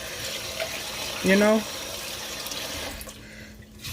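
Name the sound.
rinsing rice under running sink tap water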